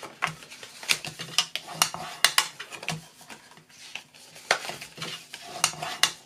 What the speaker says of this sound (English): I'm going to fold and burnish this with my bone folder